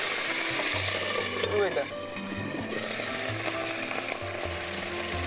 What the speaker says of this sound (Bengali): এটা দই ভাজা হচ্ছে।